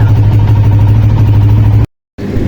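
A Honda CG 125 motorcycle engine idles at raised RPM with a steady, close, low thrum, cut off abruptly for a moment before picking up again.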